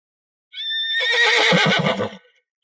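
A horse gives one loud, close whinny lasting over a second, shrill at first and then breaking into shuddering, rapid pulses before it trails off into silence.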